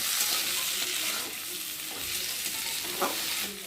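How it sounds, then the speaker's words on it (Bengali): Ginger paste and chopped tomato masala sizzle steadily in a pan, a continuous close hiss broken by a couple of short stirring scrapes, with no voices. "আদা বাটা আর টমেটো কুচি দিয়ে মশলাটা ভালো করে কষিয়ে নেব"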